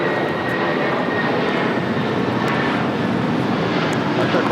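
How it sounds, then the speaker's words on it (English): A United Airlines Boeing 757-300 roars on its takeoff run at LAX, a loud, broad, steady engine rumble and hiss that holds constant throughout with no talk over it. "This is United Airlines 1260 taking off to Denver, Colorado on a 757-300."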